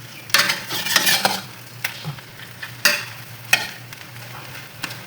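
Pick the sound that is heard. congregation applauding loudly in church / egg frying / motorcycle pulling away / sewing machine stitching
egg frying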